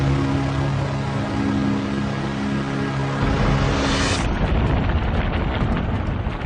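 A huge cosmic supernova blast rendered as a documentary sound effect: a dense, loud, sustained rumbling roar that swells and shifts in tone partway through, with no voices.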